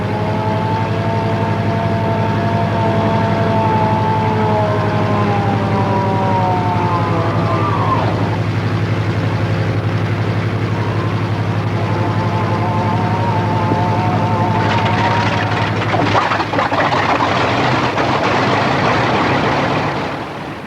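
The 2,000 horsepower piston engine of a Bristol Freighter aircraft runs up loudly nearby, giving a steady deep droning roar with whining tones that shift in pitch and a harsher surge of power near the end.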